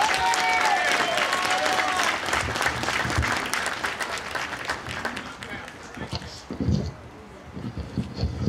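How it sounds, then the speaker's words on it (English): An audience at an anniversary celebration of the Selma to Montgomery march claps to greet a reverend, a dense burst of applause that is loud at first, then thins and fades as a voice begins speaking. "Let us greet him by a good hand clap."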